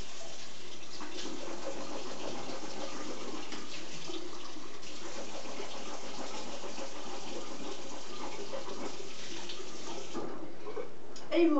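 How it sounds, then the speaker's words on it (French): Warm water runs steadily from a tap for mouth rinsing, a continuous close gush with no pauses. "vous allez rincer votre bouche à l'eau chaude plusieurs fois"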